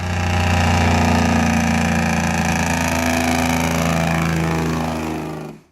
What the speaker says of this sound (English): It's called engine braking, and it's the reason truck brakes don't catch fire every time they go downhill.